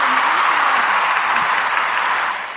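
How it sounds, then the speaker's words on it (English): Studio audience applause on a podcast set welcoming a guest, a steady wash of clapping that holds even and fairly loud, then tapers off at the end. "let me pull up a little applause for you as well"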